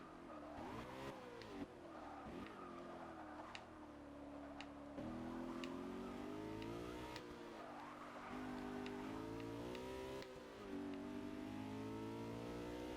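A BMW M3 engine in a Forza racing video game revs repeatedly, climbing in pitch and dropping back with each gear change, sharp ticks and clicks scattered over the engine tone.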